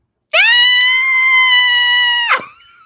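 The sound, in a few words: person screaming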